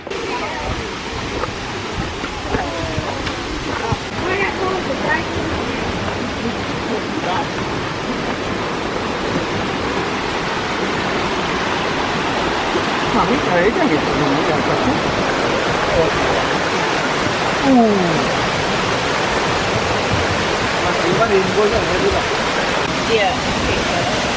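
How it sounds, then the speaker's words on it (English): A New Zealand waterfall roars as a steady broad rush of falling water that swells slightly louder over time, with a person talking intermittently over it. "Now we're heading 261 steps down to see the lowest part of the waterfall."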